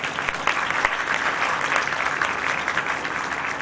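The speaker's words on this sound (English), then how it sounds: "they deserve a great round of applause" A full room applauds at the Lahore Literary Festival, the clapping dense and sustained with a few sharper nearby claps standing out over the steady roar.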